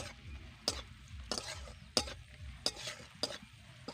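Spices with turmeric, chili powder and salt are stirred in a pan for a Bengali fish curry with drumsticks, potato and papaya. About five rhythmic scraping strokes sound close up over a faint sizzle.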